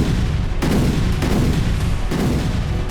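Heavy booming blasts from a war strike in western Donetsk roll out in quick succession, one after another, loud and close with a rumbling low-end tail.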